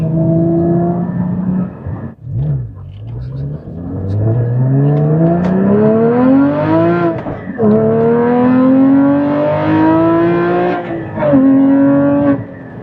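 A 2016 Porsche Cayman GT4 with a six-speed manual revs hard through repeated rev-matched downshifts and climbing pulls, the engine note rising and dropping loudly and close, with a brief slip on grass clippings.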